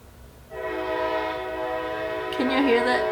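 A train horn sounds as a long sustained blast from a passing train, starting abruptly and holding steady, then growing louder and harsher toward the end over a low rail rumble.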